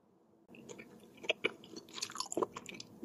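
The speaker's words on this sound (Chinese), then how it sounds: "先尝一口年糕。" Close, quiet chewing of a bite of soft braised rice cake cooked with snapper, with a few moist bites and soft squelches over about two and a half seconds and no talking.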